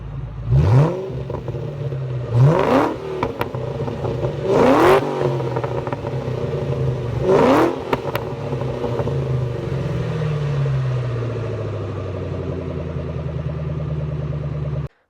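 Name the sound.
car engine revving with Borla exhaust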